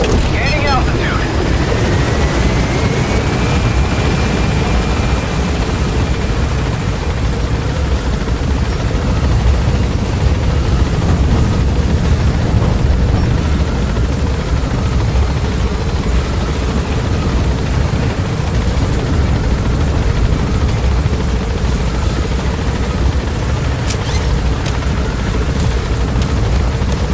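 Helicopter lifting off in Metal Gear Solid V, a loud steady rotor roar with deep churning low end that fills the whole stretch without a break, close and continuous.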